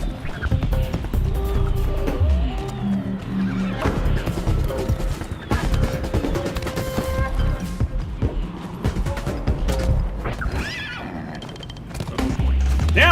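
Horses neigh and whinny loudly in a multiplayer fighting game, with clip-clopping hooves and fight clatter mixed throughout the busy, continuous mix.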